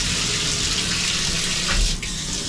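Water runs steadily from a hotel bathtub faucet in a tiled bathroom, a loud continuous rushing splash that holds for the whole stretch with a brief surge near the end.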